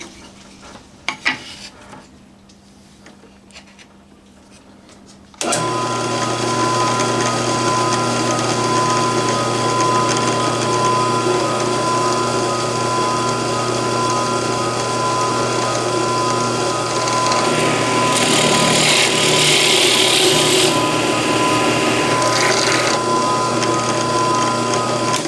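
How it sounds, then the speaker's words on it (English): A drill press starts up and runs with a steady motor hum and whine, the bit grinding into wood with a rougher burst near the end. "let's pop over to the drill press and let's just put a hole in here"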